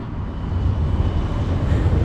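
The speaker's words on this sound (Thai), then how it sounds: "นั่งรถรางหมายเลข" Low, steady rumble from a moving number 12 tram on a cold morning ride, continuous and fairly loud with no speech.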